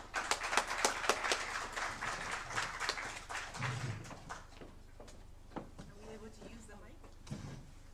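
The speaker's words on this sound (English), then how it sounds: "Thank you for giving a clap" An audience claps in steady applause after a conference presentation on African travel, tourism and investment, loud at first, then thinning into scattered claps.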